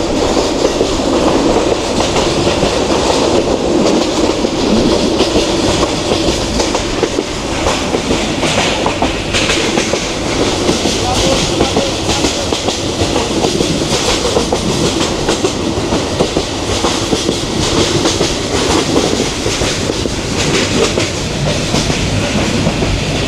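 A passenger train from Dhaka to Mohonganj rolls along, heard from on board as a steady, loud rumble with rhythmic clickety-clack of wheels on the rails throughout, and no voices.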